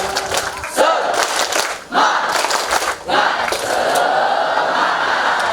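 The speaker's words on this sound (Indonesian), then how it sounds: "kita tepuk semangat dulu ya" An audience at a literacy camp event performs the rhythmic Indonesian spirit clap, a loud burst of group clapping and shouting that comes in three surges separated by brief dips, with a crowd cheering throughout.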